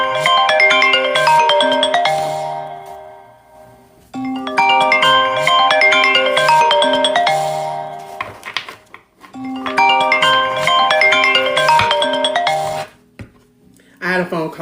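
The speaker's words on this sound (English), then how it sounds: "I had a phone call, sorry." A mobile phone ringtone plays a repeating melodic chime in three loud phrases with short gaps, close to the mic, ringing for an incoming call with no talking over it.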